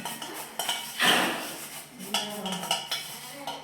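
Cutlery and dishes clink and scrape together in quick, irregular bursts, like washing up at a sink, close and moderately loud.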